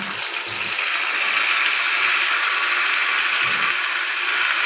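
Water gushes steadily into a pan of drumsticks and small halved potatoes for a Bengali bati chorchori, a loud continuous hissing pour with no breaks.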